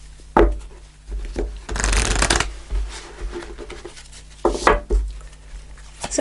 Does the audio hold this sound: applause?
no